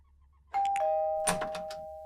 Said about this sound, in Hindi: चल के घंटी बजाते हैं